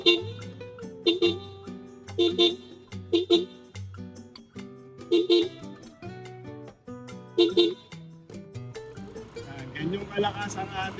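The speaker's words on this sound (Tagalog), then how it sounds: "Ayun lo, yung busina natin idol." A Hella horn on a Yamaha Aerox V3 motorcycle honks again and again in short, loud blasts with brief pauses between them, close by.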